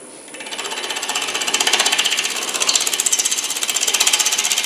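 Steady, fast rhythmic chatter from a wood lathe taking a surfacing cut across a bowl blank, sounding close and loud for the whole stretch, with no talking over it.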